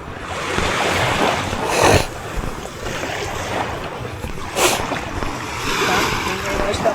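Ocean waves wash and surge continuously with a rushing roar, rising in two louder swells; no clear speech over the water.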